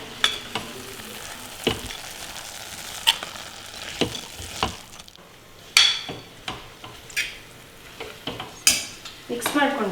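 Spoon stirring green chillies and chilli powder in a pan for a home lunch thali, with sharp metallic scrapes and taps against the vessel over a soft sizzle, close and irregular.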